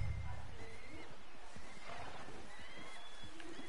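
A horse in Red Dead Redemption 2 lets out a whinny, followed by soft hoof thuds and snorting, set against light ambient game background.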